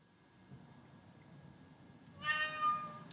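A cat lets out a loud, drawn-out meow close by after a stretch of quiet room noise.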